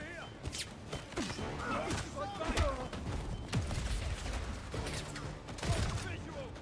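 Gunfire and weapon mechanisms from a James Bond video game firefight, with busy bursts of shots and impacts across the whole stretch while voices talk over the action.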